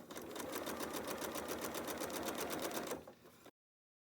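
A sewing machine stitching quilt block fabric, running in a fast, even mechanical rhythm for about three seconds, slowing briefly and then stopping abruptly, with no voice over it.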